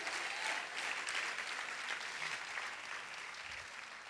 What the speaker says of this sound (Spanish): Dele fuerte el aplauso a Cristo.